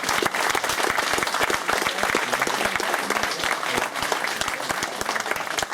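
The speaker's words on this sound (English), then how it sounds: "Another massive round of applause for that" A crowd at a tabletop painting competition during a Stockport tournament gives a loud, sustained round of dense clapping that carries on steadily throughout.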